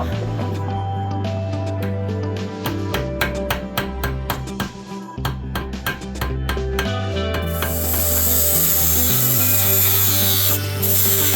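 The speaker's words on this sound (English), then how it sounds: "Start and sand it all up and get it looking nice" Sanding a heavy all-copper cuff bracelet with brazed tabs at the ends: a steady low hum and scattered clicks and scrapes, then a loud, continuous abrasive hiss from about the midpoint onward.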